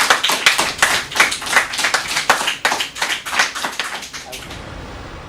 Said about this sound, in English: So can we get a round of applause for that?